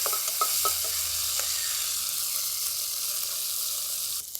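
Rohu fish seasoned with salt and turmeric sizzles in a pan. A few quick scraping stirs come at the start, then a softer steady frying hiss carries on alone.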